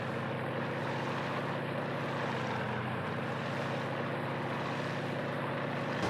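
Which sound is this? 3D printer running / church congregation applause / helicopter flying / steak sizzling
helicopter flying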